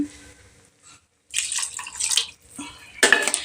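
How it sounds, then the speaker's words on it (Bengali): Water splashes into a cooking pot of simmering potatoes for a poppy-seed curry in a village kitchen, arriving in two short bursts of pouring with a quiet pause between, close and fairly loud. "তো আর একটু জল দিয়ে দিই"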